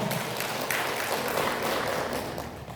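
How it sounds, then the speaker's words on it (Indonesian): Applause from an audience at an official inauguration ceremony in Maros Regency, a steady dense wash of clapping held at an even level throughout, with no voices over it. "Tepuk tangan dulu untuk Kabupaten Maros"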